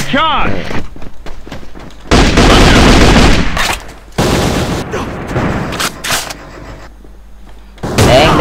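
Gunfire from a modified rifle in the video game AVA rattles out in loud, dense automatic bursts, two long sustained strings and a short one at the end, punctuated by booming impacts, with no voices.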